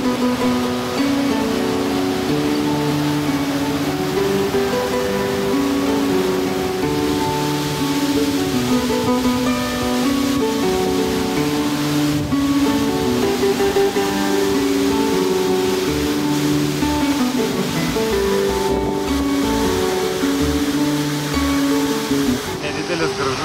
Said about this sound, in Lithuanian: Nedidelis gražus kriokliukas lankomas vietinių gyventojų.